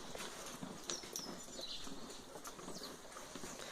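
Horse hooves clip-clop unevenly on the ground at a cattle corral over a steady background hiss, with faint chirps and scattered knocks throughout.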